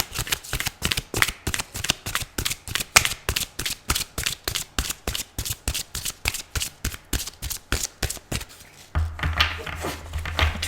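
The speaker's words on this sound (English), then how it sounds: "If you don't like the shuffling, please fast forward" Tarot cards shuffled over and over in quick, regular riffling bursts, close and fairly loud, with no talking; near the end a low hum joins the rustle.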